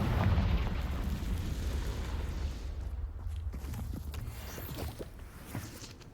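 A Confringo fire spell bursting in Hogwarts Legacy, a loud low boom right at the start that rumbles and decays across the clip, with a few fainter pops and crackles toward the end.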